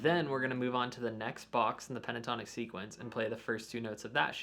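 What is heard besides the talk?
None of the usual background noises is heard.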